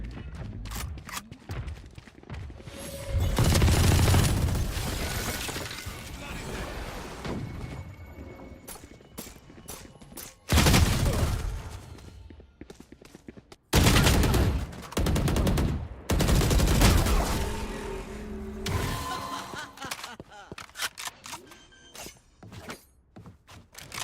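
Missile launches and rapid gunfire in the video game Valorant, loud bursts of shots and explosions coming in clustered volleys with short pauses between them.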